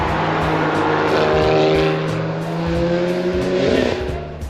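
A 1983 Toyota Corolla with a 3SGE engine passes by on Angeles Crest Highway, its engine note loud and steady, swelling as it nears and then fading with rising and falling pitch.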